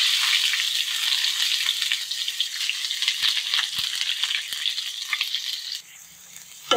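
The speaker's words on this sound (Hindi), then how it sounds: "तो पहले अभी फ्राई कर लेते हैं इनको।" Roll filling frying in a pan at home, a dense, bright sizzle that holds steady and then drops off near the end, close up with faint stirring, no speech.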